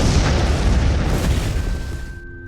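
A loud, deep suicide bomb explosion in a crowd roars and rumbles, its heavy boom slowly fading over a couple of seconds before cutting off.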